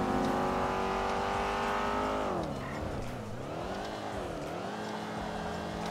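Fast cars on a highway in GTA 5, engine tones sustained and loud, then pitch wavering and bending as vehicles accelerate and shift, drifting slightly quieter midway.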